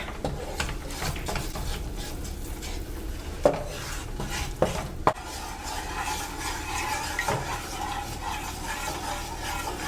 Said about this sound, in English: we are going to stir constantly.